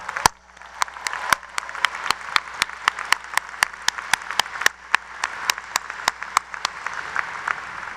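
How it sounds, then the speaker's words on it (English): A crowd at a university new student convocation gives sustained applause for the student orientation leaders. The dense clapping is punctuated by sharp, louder individual claps and continues steadily for several seconds, with no speech. "Let's give them a round of applause."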